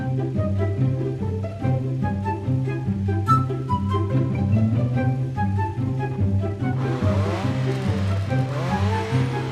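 A stolen car in a video game drives off with a steady, loud engine drone that shifts pitch through gear changes, ending in a burst of tire squeal and skidding noise, with no talking.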